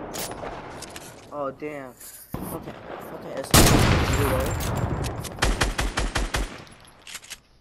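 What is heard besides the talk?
assault rifle gunfire in the video game Fortnite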